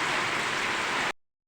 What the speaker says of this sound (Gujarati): તો જોવો વરસાદ થઈ ગયો છે ચાલુ જોરદાર